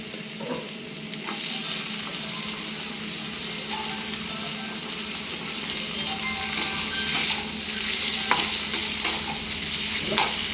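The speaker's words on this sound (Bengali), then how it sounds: "এর মধ্যে অ্যাড করলাম এবার টমেটো।" Tomatoes stirred into sizzling ginger-garlic paste in a pan for a simple chicken curry, a steady close frying hiss with scraping stir strokes throughout, no talking.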